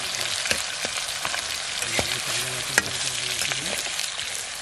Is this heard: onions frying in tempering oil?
yes